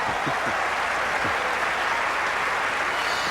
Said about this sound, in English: Crowd appreciating just the sheer genius of Andre Agassi on the serve return.